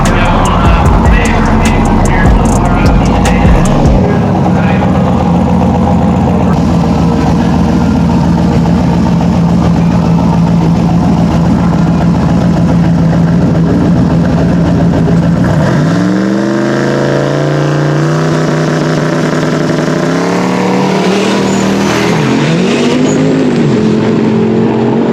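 A turbo LSx-swapped GMC Syclone truck at a Streetcar Takeover event in Maryland, its engine loud and close, idling roughly before revving and accelerating hard with rising pitch sweeps, while someone talks briefly.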